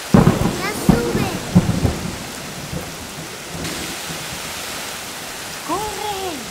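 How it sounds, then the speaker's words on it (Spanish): Heavy rain hisses steadily through a cartoon storm as a thunder rumble rolls in, with animated characters shouting excitedly over the downpour near the start and end. "Si sigue lloviendo así, nos convertiremos en ranas."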